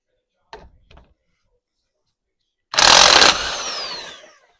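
An impact wrench with a 1 1/8 inch impact socket spins off a nut during drum brake and control arm work on a 1965 Chevrolet C20, a loud close burst of hammering buzz that winds down, after a couple of small clicks.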